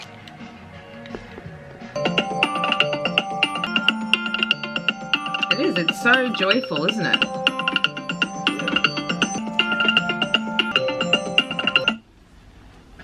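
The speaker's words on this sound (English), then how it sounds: "That's my alarm to take my happy pill." A phone alarm set to a bright, cheerful melodic ringtone plays steadily for about ten seconds at close range, with a voice speaking briefly over it before it cuts off.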